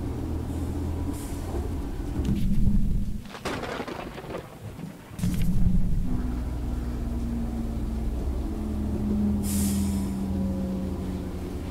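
A moving train rumbles steadily in the Choo Choo Charles video game, with low, continuous rolling noise, a couple of louder bursts of clatter, and a sustained tone near the end, all without talk.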